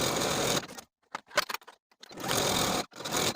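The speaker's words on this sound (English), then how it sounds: "Sew your shoulder seams with a 3/8 inch seam allowance and press your seams open." Sewing machine stitching the shoulder seams of a shirt, close whirring bursts that start and stop with short pauses and a few small clicks between runs.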